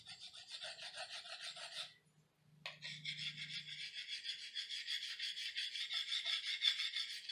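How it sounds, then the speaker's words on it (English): A knife scrapes gunk off the metal of an old light fixture, a close, steady rasping stroke that pauses briefly just before the two-second mark and then runs on continuously, with no talking. "now I'm just taking a knife and scraping the last of the"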